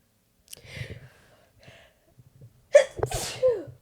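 One close, sharp human sneeze bursts out near the end, preceded by a few soft breaths and faint vocal sounds.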